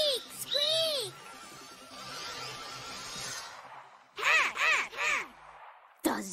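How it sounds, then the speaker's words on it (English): A cartoon caiman calls in short harsh cawing bursts, one pair at the start and a quick cluster of three later, loud and close, with a faint hiss between them. "that's a caiman"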